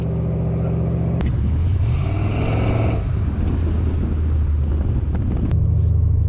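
A 6.0-liter LS V8 engine in a G-body car idles and runs steadily with a deep, constant rumble, revving up briefly partway through, close and fairly loud.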